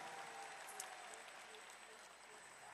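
Applause from an audience at an Indonesian political speech event, a steady wash of clapping heard faintly and at a distance throughout.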